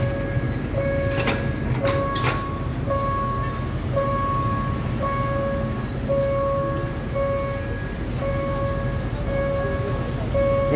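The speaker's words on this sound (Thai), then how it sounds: "เนี่ยมาแล้วรถไฟมาแล้วเห็นปะ" At a railway road crossing, a warning bell or signal tone repeats steadily over a continuous rumbling background of a passing train, with a few sharp clanks mixed in.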